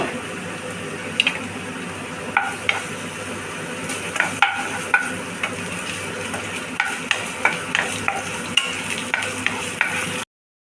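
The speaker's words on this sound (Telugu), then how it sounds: "సన్నగా తరిగి పెట్టుకున్న అల్లం వెల్లుల్లి ముక్కలు వేసుకోవాలి." Finely chopped ginger and garlic fry in hot oil with a loud, continuous sizzle, punctuated by frequent metallic scrapes and clacks of stirring, then cut off abruptly near the end.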